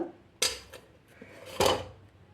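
A metal cake mould set down on a ring inside an old pressure cooker, two clear clanks of metal on metal about a second apart, close, with a faint scrape between them.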